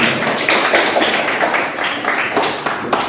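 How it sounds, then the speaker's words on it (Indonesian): A classroom audience claps for a student group, a dense, steady patter of many hands lasting about three seconds at close range with no voices over it. "Tepuk tangan untuk kelompok 1"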